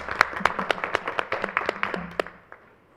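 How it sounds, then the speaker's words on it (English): A small audience at a school board meeting claps for about two and a half seconds, distinct hand claps fairly close and loud, thinning out and ending with a few last claps. "Can we just clap for that?"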